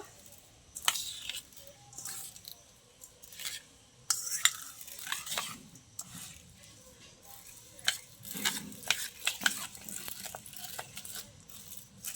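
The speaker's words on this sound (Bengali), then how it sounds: "এবার সিমাইগুলো ভালো করে ব্যাটারের সাথে আমি মিশিয়ে নেব।" Vermicelli is worked into cake batter with a spoon against a bowl, giving soft, irregular scraping and light clinks at close range, fairly quiet and with no talking.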